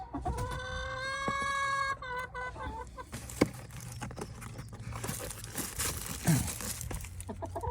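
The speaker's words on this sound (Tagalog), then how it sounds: "Yung manok yan oh." A rooster crows loudly up close, followed by scattered clucking and rustling from chickens nearby.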